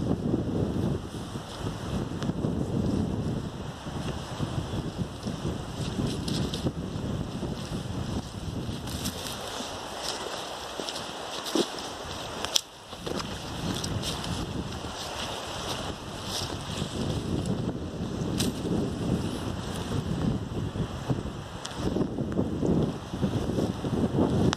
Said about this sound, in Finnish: tuuli rupee yltyy ja vähän sataa vettä tihuttaa